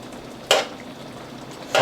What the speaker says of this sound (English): I'm gonna stir. I'm gonna let this simmer, guys,